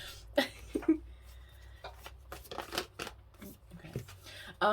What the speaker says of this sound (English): I also want you guys to see me shuffling the cards